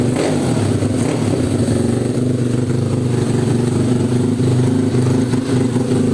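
A Honda XRM 125 motorcycle bored out to 316cc with a four-valve head and an aftermarket exhaust pipe runs close by, rumbling at idle with rough pulsing bursts as it is revved.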